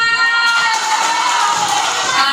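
Schoolchildren clapping and cheering at an elementary school debate competition, a dense, loud wash of young voices shouting over steady applause throughout.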